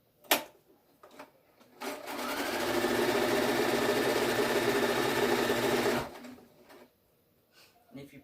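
A sewing machine runs a steady, continuous quarter-inch seam through two layers of quilt block fabric for about four seconds, close and fairly loud, framed by brief handling clicks before and after.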